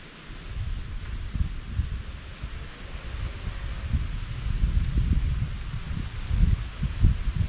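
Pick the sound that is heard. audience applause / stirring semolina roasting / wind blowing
wind blowing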